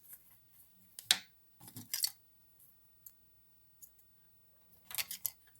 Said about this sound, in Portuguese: Agora, nós vamos cortar o fio.